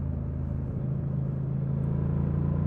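A Honda Transalp motorcycle engine running while being ridden, a steady close low drone holding an even pitch with a faint whine on top, no voices.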